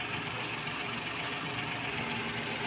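A Suzuki Wagon DA64 turbo engine idles just after its turbocharger was refitted, producing a steady, even rumble with a faint rhythmic knock that holds constant and fairly quiet, with no voices.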